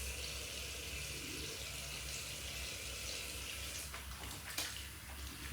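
Hands being washed under a running tap, a steady broad rush of water with brief splashy changes near the end as the hands move in the stream, close and continuous.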